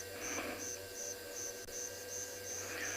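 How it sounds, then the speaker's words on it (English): Cicadas and crickets buzz and chirp continuously in a pulsing, high-pitched rhythm over a low steady hum, with no voices, in South African bush. "you can hear the cicada going, doo, doo, doo, doo, and some crickets"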